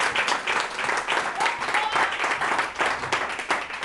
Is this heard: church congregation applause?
yes